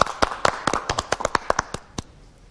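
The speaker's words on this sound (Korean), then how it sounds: "박수로 청해 듣죠." A small studio audience claps in a short, loose patter of crisp, separate handclaps that thins out toward the end, close and fairly loud with no talking.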